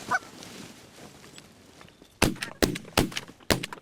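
Geese honk briefly and faintly during a goose hunt in New York, followed by four loud, sharp shotgun blasts in quick succession that dominate the end.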